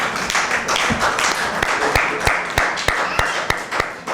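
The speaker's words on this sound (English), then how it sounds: "Please, let's clap for our panelists." A modest round of clapping from a group, sharp claps spread unevenly over a few seconds, fairly close with a noisy room behind.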